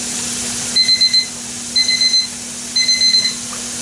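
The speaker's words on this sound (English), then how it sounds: "And there's the 10-minute timer." A kitchen timer goes off after ten minutes of pressure canning mixed greens, beeping in three quick groups of four over a steady background hiss of steam, close and loud.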